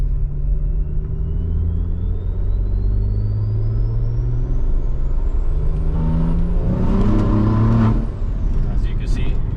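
BMW with a turbocharged B58 engine accelerates hard under full throttle, a loud, close engine roar with a whine climbing steadily in pitch for several seconds before easing off.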